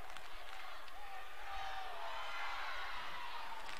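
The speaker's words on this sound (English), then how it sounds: "As these students are looking on, trying to cheer on their team." Student crowd at a high school state championship basketball game cheering and clapping at a distance, a broad steady roar with an announcer's voice over it.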